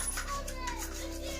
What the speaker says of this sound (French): Ça sont les gosses, hein, ils gueulent un dimanche.